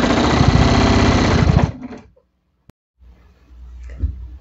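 A sewing machine quilting with a walking foot runs in a fast, steady stitching rattle, then stops abruptly, leaving near silence followed by faint handling sounds.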